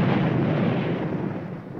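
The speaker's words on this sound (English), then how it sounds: "Firing cannon number one." A ship's cannon fires in the video game CZ Online, a loud, sustained boom that fills the whole moment and slowly trails off, with no voices over it.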